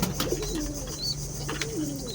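A female pet pigeon at home coos in low, rolling phrases, close and fairly steady over a faint background hum.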